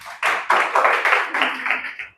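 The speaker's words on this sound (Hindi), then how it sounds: "ठोक लीजिए अपने लिए ताली" A classroom of students clapping for themselves during an English grammar lesson, a short burst of brisk, loud, close applause in a few uneven waves that fades out after about two seconds.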